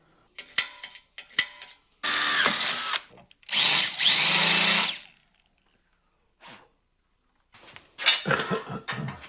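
Power drill boring a hole for a plug weld in a steel bike frame tube, heard as two sustained whirring bursts with a pitch rising partway through, framed by sharp metallic clicks and taps of tool handling at the start and end.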